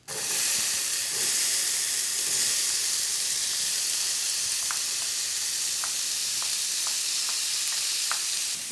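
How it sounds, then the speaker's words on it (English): Chopped red onion and peppers sizzle loudly in a hot pan, a dense steady hiss from start to finish with a few faint clinks near the end and no voices. "once that heats up, we'll add some chopped red onion and peppers"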